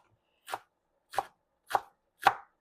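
A sharp Cuisinart kitchen knife chops through vegetables for soup, giving four crisp, separate strikes on a cutting board at a steady, unhurried pace, close and clear with no talking.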